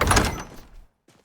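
An adept-lock door in Skyrim opens with a close, heavy wooden scrape and thunk that fades out over half a second, followed by a faint soft knock, with no talking.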